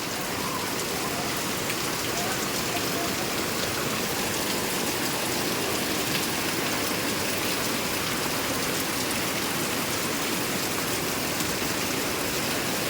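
Heavy monsoon rain pours down in Mumbai, a loud, steady, dense hiss of water hitting surfaces that holds unbroken from start to finish with no voices over it.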